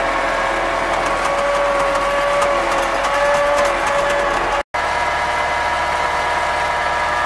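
An MTZ-80 tractor engine idles on a village farm with a steady, close, loud diesel drone that holds an even pitch throughout, with a brief dropout near the end.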